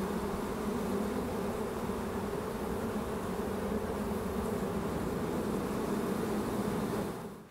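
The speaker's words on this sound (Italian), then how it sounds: "un'installazione in cui un pianoforte viene suonato dalle api libere" Free-flying bees swarm around a piano in an art installation, their buzzing a loud, steady, close drone that holds unbroken for several seconds before fading out at the end.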